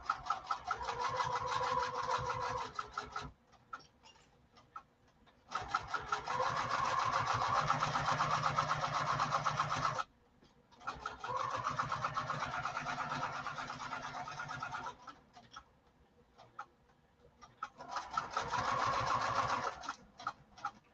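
A sewing machine stitches forward and backward across a lining seam at stitch length 3, running in several loud, steady bursts separated by short pauses.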